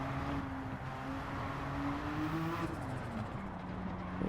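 A Porsche 962C race car in Gran Turismo 7 drones at a steady, fairly quiet pitch, then shifts and drops slightly, running continuously at speed with no voices over it.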